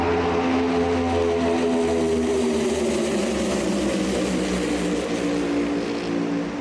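Loud, steady roar of NASCAR Next-Gen race car engines in pack racing at Daytona, with deep, droning exhaust tones, continuous throughout with no talking.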